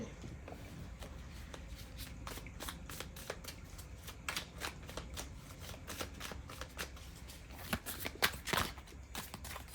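A deck of cards being shuffled close by for a tarot-style pick-a-card reading, with repeated riffling bursts and soft snaps that grow denser and louder toward the end, and no talking over them.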